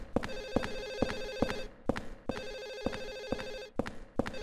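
In Silent Hill 4, a ringing telephone sounds in repeated rapid bell bursts separated by brief gaps, steady, loud and near, with no speech.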